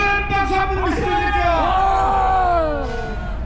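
A rally crowd cheers for General Jo, with many voices yelling and whooping together in loud, drawn-out shouts that rise and fall over a few seconds.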